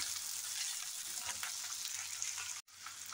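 Onion fries in oil over high heat for egg fried rice, giving a loud, continuous crackling sizzle that cuts out for a moment near the end and then resumes.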